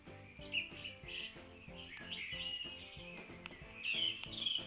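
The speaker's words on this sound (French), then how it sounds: "Pareil pour la sonnerie des oiseaux" An Elgato Avea smart lamp plays its bird-song wake-up alarm: quiet, layered chirps and tweets over a soft repeating musical backing, rising gradually and staying faint and even throughout.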